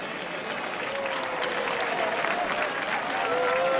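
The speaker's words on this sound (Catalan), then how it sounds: "Un fort aplaudiment per ell també, sisplau" Strong audience applause at an outdoor havaneres singing evening in Calella de Palafrugell as maestro Josep Bastons comes on stage, a continuous wash of clapping that swells slightly toward the end with faint voices mixed in.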